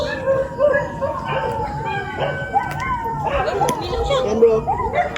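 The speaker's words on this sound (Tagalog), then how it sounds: "tingnan nyo yung mga aso guys, umaalulong na" Several dogs howling at night during a ghost-hunting outing, long wavering overlapping howls at moderate distance, heard continuously under people talking nearby.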